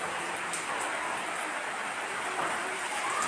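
Rain falls in a steady, even hiss, like a light to moderate shower on the ground and other surfaces, fairly quiet and continuous with no voices.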